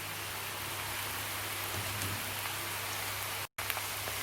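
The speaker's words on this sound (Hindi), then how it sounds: "प्याज डालकर हम अच्छे से इसको फ्राई कर लेंगे।" Onions frying in oil alongside bitter gourds, a dense continuous sizzle that holds steady and fairly loud throughout, broken by one brief moment of silence, with no voices.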